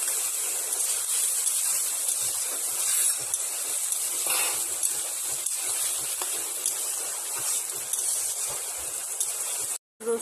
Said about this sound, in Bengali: এবার পেঁয়াজ টমেটো কাঁচা লঙ্কাটা লাল লাল করে ভেজে নেব।